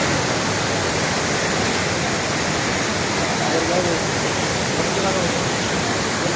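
A hillside waterfall in heavy monsoon rain roars as a steady, dense rush of water that stays constant throughout, with no breaks and no voices standing out.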